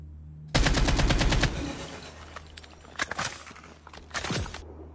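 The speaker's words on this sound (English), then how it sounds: "it has a special sound effects for the gunshots and for the reload" Legendary AK47 Kuromaku in the Call of Duty Mobile game fires a loud, rapid automatic burst for about a second, followed by a few scattered sharp reports and clacking handling sounds.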